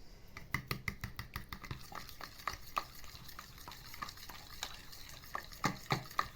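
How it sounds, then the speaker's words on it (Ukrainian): A spoon stirs a mixture in a bowl, making quiet, irregular scraping taps and clicks close by. "Це все ми перемішуємо."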